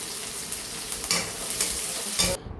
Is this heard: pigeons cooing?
no